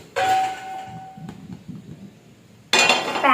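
A metal pan set down on a stove while making uttapam, giving a sharp clang with a ringing tone that fades, then a second louder clatter near the end.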